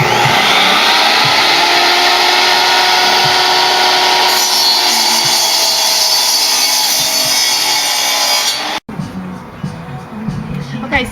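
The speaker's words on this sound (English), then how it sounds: "I'm cutting the 2x4s now." A power saw cuts through 2x4 lumber for a raised garden bed, a loud continuous whine with gritty rasping for about nine seconds before stopping abruptly, followed by quieter handling noise and knocks.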